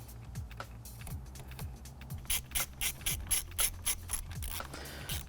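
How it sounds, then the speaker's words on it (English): A ratchet wrench undoing a starter battery bolt during split charge wiring work on a VW T4 van, a run of rapid close clicking strokes in repeated bursts, with no talking. "We're just going to use one of the starter battery bolts. We're going to undo it."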